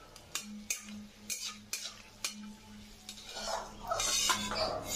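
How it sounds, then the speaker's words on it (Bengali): Peanuts fried in a little white oil in a wok, with repeated scraping and clinking of a metal spatula against the pan in an uneven rhythm over a soft sizzle, close and fairly quiet. "আমি কড়াইতে সাদা তেল দিয়েছি 2 চা চামচ মতো, সঙ্গে কিছু চিনেবাদাম ভেজে নিচ্ছি।"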